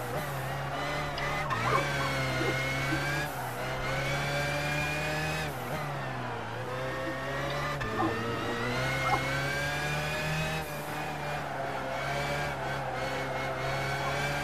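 BMW V12 LMR race car from 1999 driven in Gran Turismo 5, its engine droning steadily with repeated rising and falling revs as it shifts and slows through corners, continuous and fairly loud.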